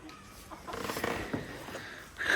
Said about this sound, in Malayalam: കോഴിക്കളെ കരയുന്നുണ്ട്